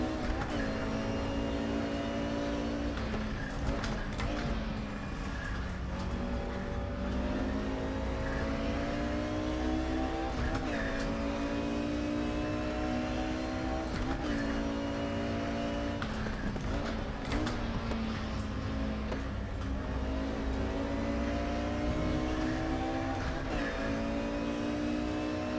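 Race car engine in RaceRoom Racing Experience, loud and steady, repeatedly winding up in pitch through gear changes, with sharp upshift breaks and no talk over it.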